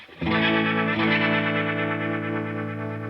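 Electric guitar chord through a Keeley Monterey rotary fuzz vibe pedal on its rotary setting, fuzzy and swirling with warbling modulation, struck once and then sustained loud and close.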